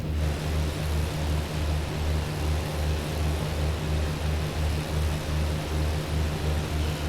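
BN2 Islander propeller aircraft in Microsoft Flight Simulator 2020, its engines droning steadily with a strong low pulsing beat from the propellers, loud and constant with no talk.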